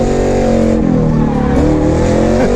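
A drift car engine roars loudly and continuously while its tires skid and squeal through a slide, dense mechanical noise filling the whole moment with shifting pitch.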